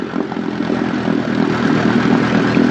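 A 1956 Johnson 15 hp outboard motor, recently restored, runs at a steady idle, a moderately loud, even low drone with no talking over it.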